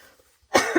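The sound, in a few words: coughing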